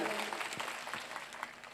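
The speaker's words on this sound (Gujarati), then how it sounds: "એમની માટે એકવાર જોરદાર તાળીઓના ગણગડાટ સાથે વધાવી લ્યો" An audience at a political speech claps together in a brief burst of applause, fairly faint and distant, with a voice faintly mixed in.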